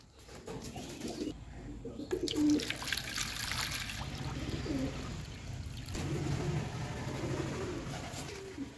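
Pigeons feeding and drinking coo faintly, with a burst of wing flapping and light trickling water nearby amid a busy, moderately quiet background.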